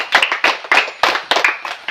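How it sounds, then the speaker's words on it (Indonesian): A small group claps hands for children in an uneven burst of sharp, close individual claps, roughly a dozen distinct slaps with brief gaps between them. "Ayo semua tepuk tangan."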